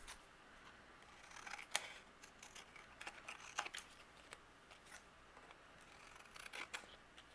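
Excess vellum paper is trimmed off a card project. Quiet, close snips and small clicks come in an irregular series over faint room noise, with no talking.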